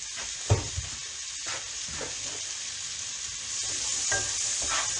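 Two onions sizzling and softening in a frying pan, a steady close hiss with occasional stirring scrapes and pops, no talk over it.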